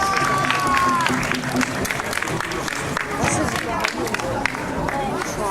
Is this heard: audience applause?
yes